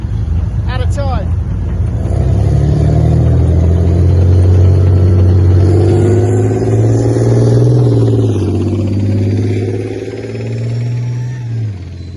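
Heavy military tanks of about 64 tons rumble and rev as they drive onto a ferry of four lashed barges during a British armoured river-crossing exercise, a deep, steady engine drone that swells and fades over about twelve seconds.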